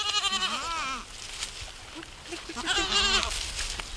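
Goats bleat loudly nearby, two wavering calls separated by a quieter pause with faint rustling in between.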